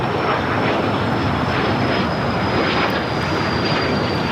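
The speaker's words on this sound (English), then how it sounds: "Takeoff, American 2914." An American Airlines jet taking off at LAX roars loudly and steadily, a continuous broadband engine rumble with a thin high whine running throughout.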